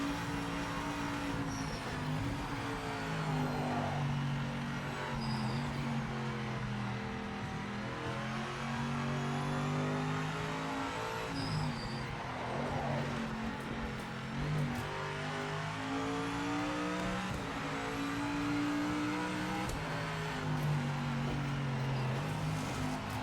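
Race car engine in the Project Motor Racing video game on the Nürburgring, droning steadily with shifting pitch as it accelerates and changes gear through a lap, loud and continuous with no talk.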